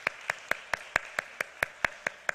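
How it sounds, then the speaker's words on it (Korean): A church congregation claps for the team that ran a winter retreat, heard as a steady, evenly spaced run of about eleven sharp claps with very little else around them. "우리 큰 박수로 격려하도록 하겠습니다."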